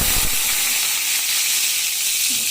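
Boiled jackfruit and potato pieces fry in a pan with a steady, close hiss of oil that holds at one level throughout, with a faint clink near the start.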